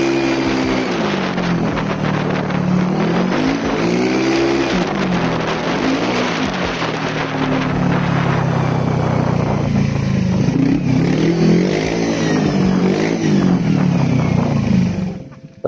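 A motorcycle fitted with an aftermarket KW replica exhaust roars continuously, the engine rising and falling through repeated revs and accelerations, loud and close with wind noise, cutting off abruptly at the end.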